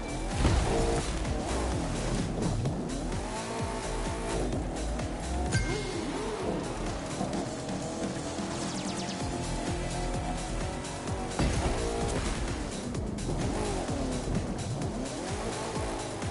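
Race cars in The Crew 2 roar through the final section of a race, engines loud and sustained alongside tire squeal and a clinking rattle, with music-like layers blended in.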